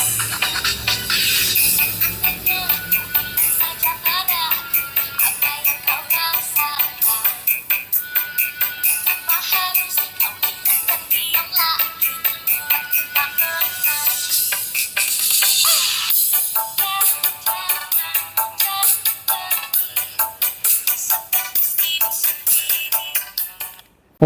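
Test tone or music played through a Fabulous CD440 tweeter driver from the ACR series, bright and dense with rapid repeating high notes, loud and steady for the whole stretch with no talking.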